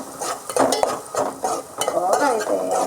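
Ginger paste stirred and fried in a pan for a broad bean curry cooked with milk, with steady sizzling broken by repeated spoon scrapes and clinks against the pan, close up and with no one talking.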